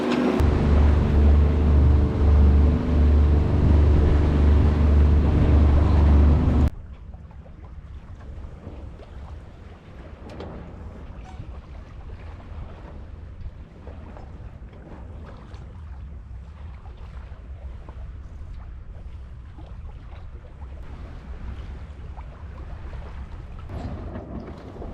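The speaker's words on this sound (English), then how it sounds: "right now we're just putzing along with the diesel." A sailboat moves slowly under diesel engine power with almost no wind, a steady low engine drone and water and wind noise running throughout, much louder and more tonal for the first several seconds.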